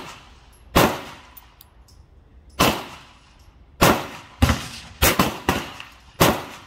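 Sharp cracks from a Ruger MK 4 Tactical .22 pistol, with metallic clangs of steel targets being hit, come as about eight separate loud reports at uneven intervals, each ringing briefly before the next.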